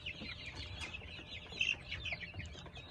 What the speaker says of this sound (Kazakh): Негізі орыстың өзінің тауықтары бір хит тауықтарының бірі ғой бұл.